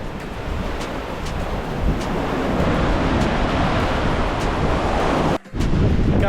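Sea waves breaking without pause on Survival Beach in Puerto Rico, a loud, steady roar of surf mixed with wind buffeting the microphone, with a brief dropout near the end.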